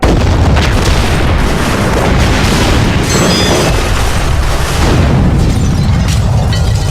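A sabotaged rocket explodes in the PC game Prisoner of War, a loud, sustained rumbling blast with broadband crackle that fills the whole stretch without letting up.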